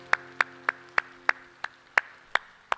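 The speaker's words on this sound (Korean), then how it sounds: "우리 하나님께 영광에 박수합시다." A church congregation claps together in a slow, even rhythm, about nine sharp, evenly spaced claps ringing in a reverberant hall, with no voices.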